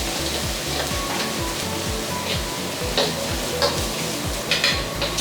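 Garlic sizzles in a hot pan or wok for egg fried rice while a utensil stirs it in steady, repeated scraping strokes, close and continuous, with bright crackling throughout.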